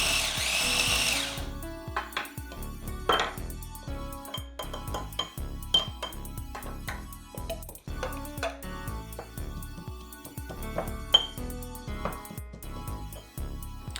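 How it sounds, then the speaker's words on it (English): A grinder blends turmeric and spice paste for Indonesian soto ayam, a short loud whir at the start followed by a run of clattering, knocking pulses from the jar and lid, close and without speech. "I'm gonna give it a quick grind."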